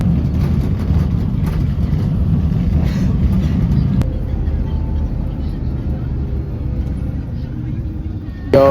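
Steady loud rumble of a light rail (LRT) train running on rails, with constant low-pitched rolling noise and a sharp click partway through.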